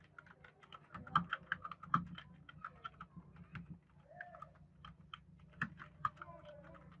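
Steady, irregular clicking from someone typing on a computer keyboard with caps lock on, close and fairly quiet, with a few faint chirps in the background.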